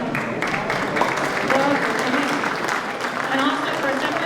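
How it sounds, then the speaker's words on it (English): Audience applause at an insurance town hall, steady continuous clapping from a crowd lasting throughout, moderately loud with some voices mixed in. "Another round of applause for insurance"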